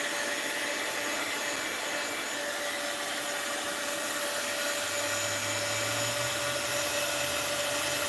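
A heat tool blows steadily over faux salt dough, a loud constant whirring hiss with a faint low rumble creeping in toward the end, no voices.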